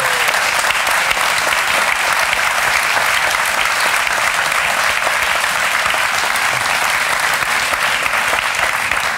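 Studio audience applause fills the room, a loud, dense and sustained wash of clapping that holds at an even level throughout.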